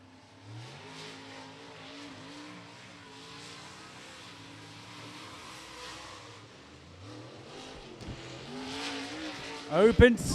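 A race car laps Beckley Motor Speedway during qualifying for the Mountaineer 50, its engine drone rising and falling as it circles the oval, fairly distant, then swelling louder and closer at the end, with faint commentary underneath.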